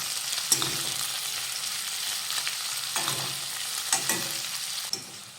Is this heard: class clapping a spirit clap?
no